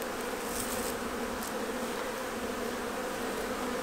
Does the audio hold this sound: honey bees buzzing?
yes